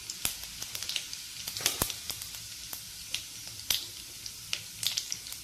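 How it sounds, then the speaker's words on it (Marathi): Mustard seeds frying in hot oil, a quiet sizzle broken by scattered sharp pops and crackles at irregular intervals, close and alone. "आता त्यामध्ये मी 1 चमचा मोहरी टाकते। मोहरी थोडी तळून द्यायची।"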